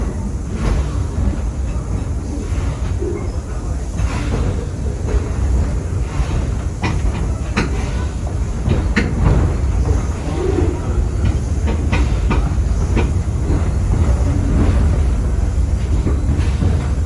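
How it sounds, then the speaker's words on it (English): A passenger train on a Torch Lake excursion rolls slowly over a work zone, giving a steady rumble with faint rhythmic clickety-clack from the rails and occasional knocks. "Engineers slowed the train down."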